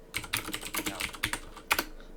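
Rapid keystrokes clatter on a computer keyboard, a close, uneven burst of clicks with a few louder taps standing out, no voices over them.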